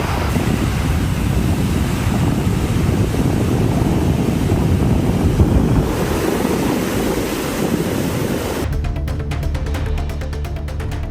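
Rough sea surf whipped up by Hurricane Erin's storm surge along the North Carolina coast, a dense, continuous roar of breaking waves and wind buffeting the microphone, loud and close, ending in a brief burst of music.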